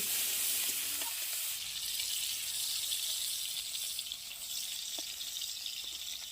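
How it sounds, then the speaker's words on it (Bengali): Prawns fry in hot oil in a wok, giving a continuous hissing sizzle at moderate, fairly soft level, with a few faint clicks of stirring scattered through and no voices. "চিংড়িগুলিকে দিয়ে খুব ভালোভাবে লাল লাল করে ভেজে নেব"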